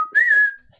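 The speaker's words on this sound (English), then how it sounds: "instead of yelling with our voices, hey, come over here, I really need your help to shoot this animal, you would whistle it" A single human whistle used as a hunting call, one clear sustained tone that rises slightly then fades, close and alone.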